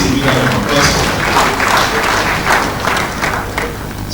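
An audience gives a loud round of applause for UAC at an access-to-justice event, with dense, continuous clapping that swells and fades slightly over a few seconds, close and full, with a little crowd murmur mixed in.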